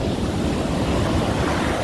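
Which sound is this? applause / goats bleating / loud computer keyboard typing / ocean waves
ocean waves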